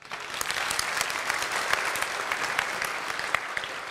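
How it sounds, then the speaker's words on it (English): Audience applause at an Islamic lecture and kids' program, a full, sustained burst of clapping from a sizable crowd that holds steady throughout with sharp individual claps standing out. "Round of applause."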